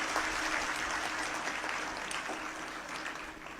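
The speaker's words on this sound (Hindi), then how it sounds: "आप तालियां बजा रहे हैं" An audience at a motivational talk claps together in a continuous, even wash of applause that holds for several seconds, fairly close, with no speech over it.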